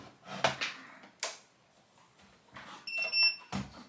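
A short electronic beep from a Jadens JD-268BT thermal printer powering on, a bright tone with harmonics amid clicks and handling noises.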